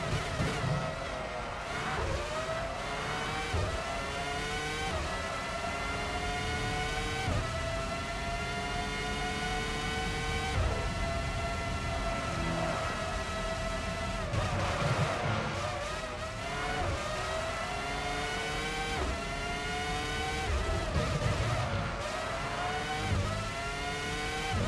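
Formula One race car engine from the game Formula One 05 at Hungary, whining high and revving in repeated rising sweeps as gears shift, with drops on braking before climbing again, steady and close throughout.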